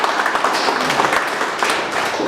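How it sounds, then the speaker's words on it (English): An audience applauds to welcome a panelist taking a seat at a panel discussion, a dense, steady wash of many hands clapping, loud and close, with no talk over it. "Let's give Roos a round of applause"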